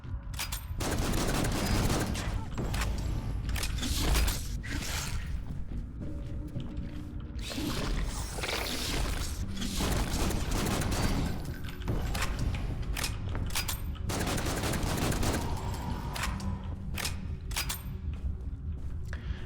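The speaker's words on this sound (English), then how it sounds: "These explosions are minuscule" Dense, continuous volleys of gunfire and explosions from the video game Killing Room, crackling bursts layered tightly over nearly twenty seconds with little pause.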